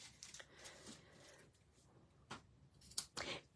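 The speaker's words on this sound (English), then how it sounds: "Let me cut my ribbon ends so they're a little bit shorter." Scissors snip the loose ends of a ribbon on a handmade shaker card in several short, crisp cuts, quiet and close, with soft paper handling between them.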